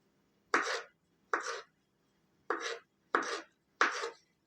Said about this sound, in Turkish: soğuttuğum kırmızı pancarlarımı da şöyle küp küp doğruyorum